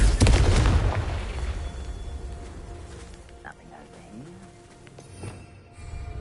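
A Confringo fire-blast spell explodes in the Hogwarts Legacy video game, a loud burst at the start that rumbles and fades into crackling debris, with a couple of softer pops later.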